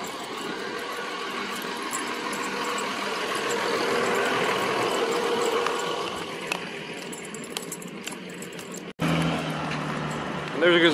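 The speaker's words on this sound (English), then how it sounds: "There goes another FedEx truck." A FedEx delivery truck passes by, its engine a broad, steady rumble that swells near the middle and fades, with a sharp break and a fresh burst of road noise near the end; a voice talks over it.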